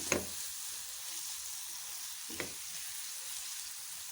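Chopped green chillies stirred into a frying tomato masala for an Afghani omelette, giving a steady soft sizzle with two brief spoon scrapes, quiet and close, no voices.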